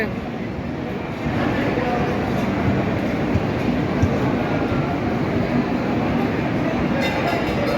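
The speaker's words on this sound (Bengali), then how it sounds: "হাওড়া রক্সল নেপাল যাওয়ার ট্রেন বর্ধমান স্টেশন থেকে ছেড়ে বেরিয়ে যাচ্ছে" A Howrah–Raxaul train rumbles loudly as it pulls away from Bardhaman station, its steady low roar growing after a second and continuing without pause.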